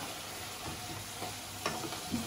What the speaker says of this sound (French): Ils disent qu'il faut d'abord les torréfier un peu et après les passer au